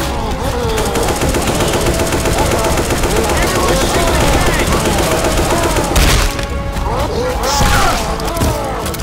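Rapid, sustained automatic gunfire from the Left 4 Dead 2 video game fills the whole stretch, loud and dense, with heavier bursts and booms near the end and faint shouted voices in the mix.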